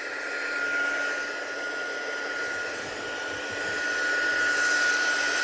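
Heat tool blowing steadily to dry ink on paper, a constant close whirring hiss with a thin high whine, slightly swelling near the end, no voices.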